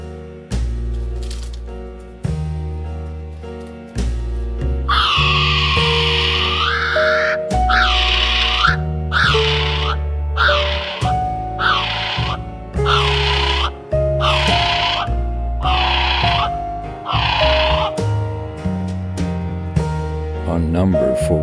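A kiwi gives a run of about ten shrill, rising whistled calls in steady succession, loud and close, over a continuous musical backing.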